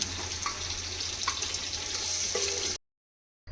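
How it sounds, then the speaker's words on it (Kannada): Marinated fish fries in a little oil, giving a steady, close sizzling hiss with faint clinks, then a sudden cut to near silence before the sound briefly returns. "ಮ್ಯಾರಿನೇಟ್ ಮಾಡ್ಕೊಂಡಿರೋಂಥ ಫಿಶ್ನ ಫ್ರೈ ಮಾಡ್ಕೊತಾ ಇದ್ದೀನಿ"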